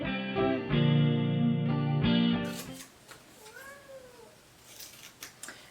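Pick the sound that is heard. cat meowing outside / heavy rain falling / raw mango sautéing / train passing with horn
cat meowing outside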